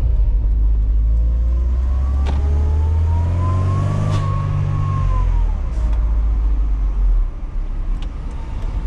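A 1998 Mercedes-Benz SLK 230 engine revs loudly and close by, its pitch climbing steadily as it accelerates from a green light, then easing off as it drives away.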